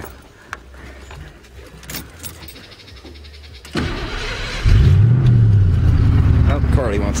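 A car engine fitted with an adjustable fuel pressure regulator and fuel preheater cranks and fires up, settling into a loud, steady idle after a few seconds of rustling and key jingling, with voices nearby.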